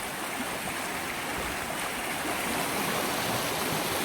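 River flowing through jungle, a steady, dense rush of water that stays constant and fairly loud throughout, with no voices over it.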